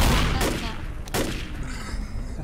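Two loud gunshots ring out close together during Left 4 Dead zombie fighting at a construction site, each trailing off in echo over a steady din of game noise.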